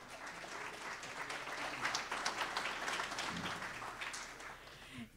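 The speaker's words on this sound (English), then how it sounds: "Give her a round of applause." An indoor audience at a county chamber of commerce legislative wrap-up event applauds a speaker being introduced, with sustained clapping from many people that fades out near the end.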